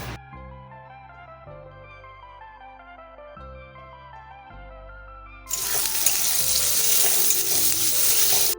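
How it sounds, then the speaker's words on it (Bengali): Soft music plays, then a loud, continuous sizzle of onions frying in a pan starts up partway and carries on to the end. "তাই পেঁয়াজটাকে আগে ভালো করে ভেজে নিলাম।"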